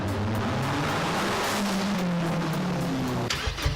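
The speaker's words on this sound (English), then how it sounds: "The way that the engine just goes right when I turn it on, that cold start" A Mazdaspeed 6 engine cold starts, revving and settling at close range, its pitch sliding down as it steadies, followed by a brief clatter at the end.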